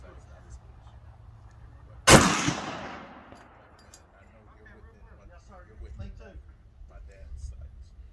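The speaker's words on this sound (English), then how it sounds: "This is how you shoot a gun." A single gun fires outdoors, one sharp loud report with a decaying tail, followed by quieter talk and faint background sounds.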